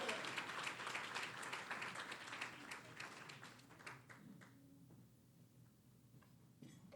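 Applause from a breakfast audience at a community gathering as a speaker comes up, dense clapping at first that thins out and fades to a few scattered claps and quiet room noise.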